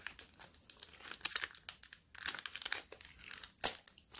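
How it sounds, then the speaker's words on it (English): Taped packaging on a Yu-Gi-Oh card box being pulled and torn by hand, giving close, irregular bursts of crinkling and ripping tape and cardboard, fairly quiet, with no talking. "this is crazy how they put so much tape in there"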